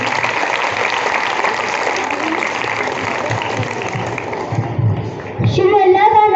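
Audience at a school Defence Day celebration claps in a steady, fairly loud wash of applause that fades near the end as a voice begins over a quieter background.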